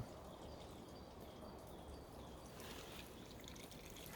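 Water trickling and flowing down a cold ravine on a garden plot in February, a steady close-up rush with a few faint bird calls in the background.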